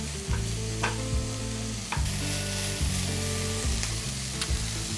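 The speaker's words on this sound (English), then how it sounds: "we're going to go in with our onion. So we're just going to cook these for a couple of minutes," Chopped onion frying in a pan, cooked while being made into creamy scalloped potatoes: a steady, close sizzle runs the whole time, broken by repeated scraping stirs, with no talking.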